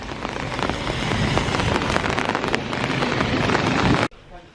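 Rain falling on a surface in a dense, close patter of drops that keeps up steadily at fairly high loudness, then cuts off abruptly near the end, leaving only quiet background.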